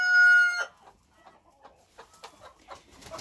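On a farm, a rooster crows loudly and close at the start, then several hens cluck softly and intermittently nearby, with no voices.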